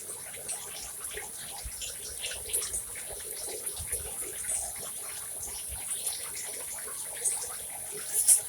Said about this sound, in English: Give it a touch of water again, right?